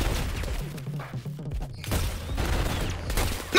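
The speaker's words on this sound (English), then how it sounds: "Oh, those bombs." Bombs exploding in the video game ROUNDS make a rapid fusillade of booms and cracks, dense and loud, with short rumbling gaps between.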